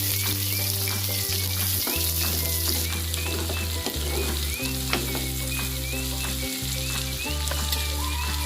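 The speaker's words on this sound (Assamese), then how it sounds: "তেল গৰম হৈ গ'ল, পিছত দিয়াখিনি এতিয়া পিঁয়াজখিনি ভাজি ল'ম" Onions fry in hot oil for an egg masala curry, making a loud, continuous sizzle with repeated stirring scrapes and clatter close by, and no voices.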